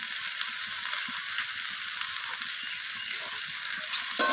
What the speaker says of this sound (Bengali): আদা রসুনটাকে দিয়ে আমি সবজির সাথে আবারও এইভাবে মিশিয়ে নিয়ে কষিয়ে নিচ্ছি